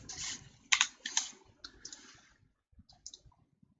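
Typing on a computer keyboard while entering values into a P&ID drawing, a quiet run of close clicking keystrokes in short irregular bursts with pauses between.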